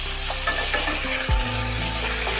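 Pointed gourd (potol) frying in a pan for a vegetarian dish, with steady loud sizzling throughout and a spoon stirring and scraping through the pieces, including one sharp scrape partway through, with no talking.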